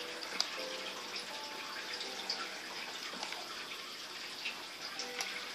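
Steady flowing water trickles through a video game cave, a continuous, fairly quiet wash with faint drips, no voices over it.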